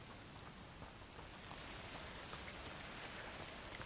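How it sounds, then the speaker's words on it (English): Rain falling in the video game A Plague Tale: Requiem, a faint, steady hiss of drops with scattered light patters, continuous throughout and growing slightly heavier. "Oh, rain."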